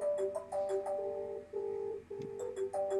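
3CX live chat call ringing in a web browser, a repeating electronic ringtone of short melodic beeps in a steady pattern, clear and alone for about three seconds.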